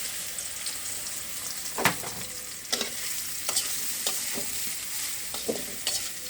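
Soya chunks fry in a pan for a chilli dish under a steady hiss of sizzling oil, broken by several close scraping stirs and light clinks of the spatula, with no voices.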